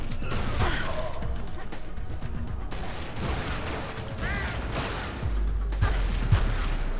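Shotgun gunfire in the game Tomb Raider: Legend, a few heavy blasts spaced across a busy mix of game effects and mechanical clatter, with no talk.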